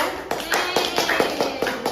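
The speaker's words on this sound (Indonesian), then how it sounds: "Tepuk tangan dulu dong untuk kelompok 1." A classroom of students claps for a presenting group, a short burst of scattered hand claps, close and fairly quick.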